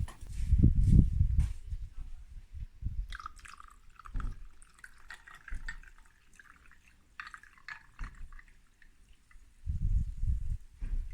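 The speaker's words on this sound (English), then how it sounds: "Now add the Rooibos Matcha" Rooibos matcha pours into a glass of hemp milk in a few short, close splashing bursts separated by quiet pauses, with faint trickles and clinks between them.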